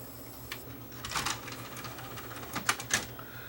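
Worn, high-hour disc motor in an old Toshiba DVD player runs with a steady low mechanical hum, broken by irregular clicking and ticking bursts where a dead spot catches, close and moderately loud.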